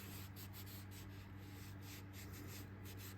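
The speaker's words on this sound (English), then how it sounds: "that horsehair brush is going to get that off" Horsehair brush buffing a leather knife sheath finish, a steady soft rubbing swish with rhythmic strokes, close and continuous, no talking.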